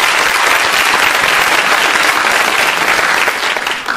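A room full of people applauds at an entrepreneurship talk, a loud, dense, sustained clatter of many hands that holds steady, then begins to thin near the end.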